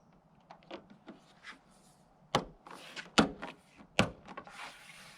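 Window belt trim being pressed onto a Toyota FJ Cruiser door, a string of soft plastic clicks and rubs building to three sharp snapping pops.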